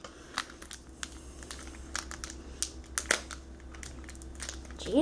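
A Pokemon TCG card pack wrapper from a Gengar EX box is crinkled and torn open, giving scattered soft plastic crackles and brief crunches, fairly quiet and close.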